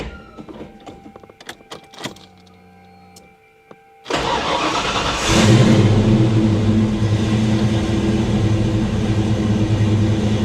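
Foxbody Ford Mustang engine cranking with clicks and short bursts, then catching and starting into a loud, steady idle that rises slightly and keeps running close by.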